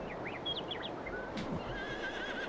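A horse in the Farming Simulator 22 video game whinnies once, a clear wavering neigh that rises and falls over a steady low background hum, with no voices heard.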